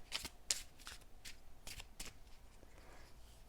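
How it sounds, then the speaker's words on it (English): Tarot cards shuffled by hand in a quiet room, a series of crisp riffling bursts and soft slaps at an irregular rhythm, close and alone with no talking. "I'm going to pull one more card here."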